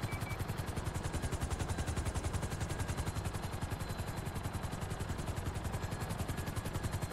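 Helicopter hovering overhead in a game heist shootout at the FIB building, a steady rapid rotor thump with loud chopping pulses throughout, close and continuous with no talk.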